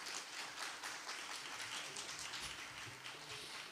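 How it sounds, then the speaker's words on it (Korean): Audience applause at an award ceremony during the opening of a Korean adapted physical activity society's summer conference, as a plaque is presented: a steady, dense patter of many hands clapping, fairly faint and distant, continuous throughout with no talking. "큰 박수 부탁드리겠습니다"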